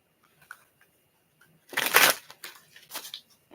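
Tarot cards being shuffled by hand: faint scattered taps, then a loud riffling burst and a few shorter rustling bursts, close and with no talk over them.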